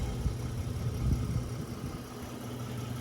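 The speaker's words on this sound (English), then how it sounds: "Give you a little exhaust note here." A 2022 Nissan Frontier's 3.8-liter engine idles steadily with a quiet, low exhaust rumble, near and continuous with slight pulsing throughout.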